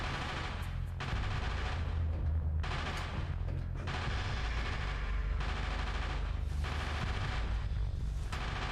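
Guns firing in Castlevania: Legacy of Darkness on the Nintendo 64, repeated loud bursts of rapid shots about a second long separated by short pauses, close and harsh.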